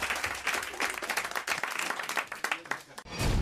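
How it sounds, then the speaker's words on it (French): A studio audience on a French radio comedy show claps, a burst of close, uneven applause with individual hand claps audible, thinning near the end before a brief low thump. "Si, franchement, on vous applaudit, François."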